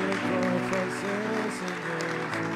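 A church congregation claps and cheers loudly in sustained applause, dense and continuous throughout, with voices calling out within the crowd noise.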